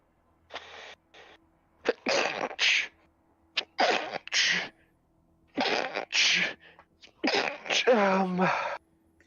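Several loud, close sneezes come in quick succession, broken by short pauses, with voices talking briefly between them.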